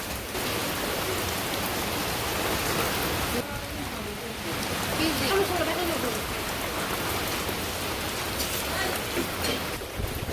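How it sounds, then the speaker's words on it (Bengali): Heavy rain pours steadily in a village, a dense continuous hiss of drops striking surfaces that stays loud and close throughout, with a faint voice now and then beneath it. "এই যে দেখেন বৃষ্টি কি অবস্থা"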